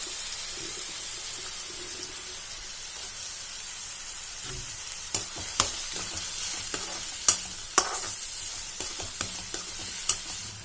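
Onions and green chillies frying in a pan for a drumstick curry, a steady sizzle with a spoon scraping and clinking against the pan in sharp, irregular knocks during the second half.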